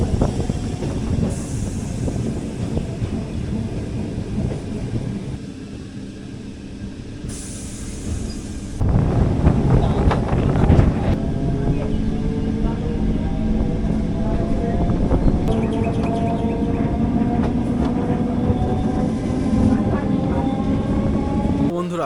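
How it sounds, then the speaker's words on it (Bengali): A Kolkata suburban local train travels from Sealdah toward Diamond Harbour, with a constant rumble and clatter that grows louder midway and wheels squealing faintly, heard from inside the carriage amid distant voices. "এই ট্রেনটা করেই আজকে কিন্তু ডায়মন্ড হারবার যাব"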